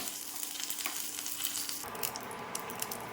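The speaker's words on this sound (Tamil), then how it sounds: "கேஸ் ஸ்டவ்வில் ரசத்துக்கு தாள் சுடுறதுக்காக ரெடி பண்ணியிருக்கிறேன்" Steady hissing sizzle of spices tempering in hot oil in a pan on a gas stove for rasam, crackling a little brighter partway through, with no voices.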